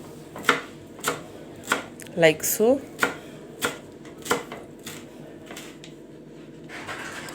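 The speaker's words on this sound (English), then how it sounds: "we are just going to go in with our dhania or our coriander and chop them into also" A knife chops coriander on a board in sharp, separate strokes about once a second, with a brief scraping run midway and a few spoken words.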